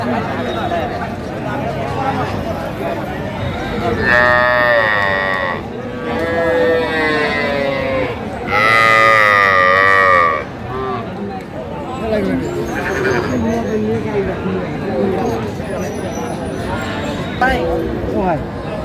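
Cattle, young bulls and heifer calves, low repeatedly amid a busy livestock market, with overlapping crowd chatter and someone talking throughout.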